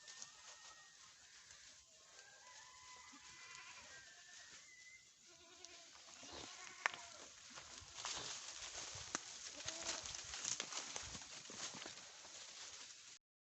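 A herd of goats in a Nepalese farming village comes back from grazing in the forest, bleating repeatedly near and far while hooves clatter steadily as they move along.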